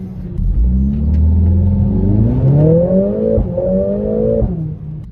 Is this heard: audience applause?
no